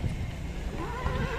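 A tall horse at a Bishkek horse market neighs in a drawn-out, wavering whinny under a noisy, bustling outdoor background.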